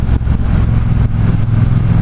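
A 2018 Triumph Bobber Black motorcycle engine runs on an open road, a loud steady low rumble with a few brief dips in pitch as it pulls along, and no talking.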